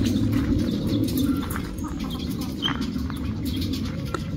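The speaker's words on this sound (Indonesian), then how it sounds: "Dan mayoritas semuanya adalah burung perkutut." Zebra doves (perkutut) coo in an aviary housing hundreds of birds, their calls soft and overlapping under a steady, dense background of chirps and flock noise.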